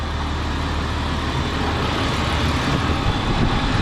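A 2004 BMW 325xi running after an engine replacement, with a nest suspected of burning off in the exhaust. A steady, loud idle hums close by, an even low rumble with no talking.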